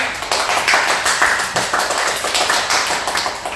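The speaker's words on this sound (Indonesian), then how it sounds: "boleh tepuk tangan yang meriah buat Kak Sonya" A campus talk audience claps for a guest speaker, a former cruise-ship casino dealer. Quick, even clapping from a small group, close and lively, holding a steady rhythm without voices.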